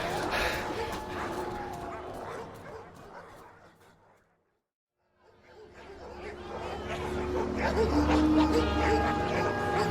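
A hunting pack of dogs in an audio drama set during a wild hunt, barking and yipping in a busy chorus with chatter and music, fading out briefly into silence and then swelling back louder.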